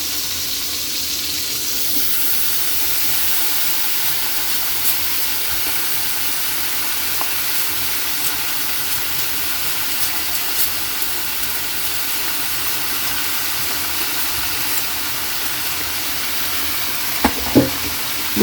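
Jackfruit and lemongrass frying in a pan for a simple ginataang langka, a steady close sizzle with stirring throughout and a few sharp utensil scrapes near the end.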